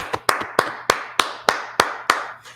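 Congregation at a church brotherhood class clapping for the Lord, sharp unison hand claps in a steady, even rhythm of about three per second, close and distinct, with no talking over them.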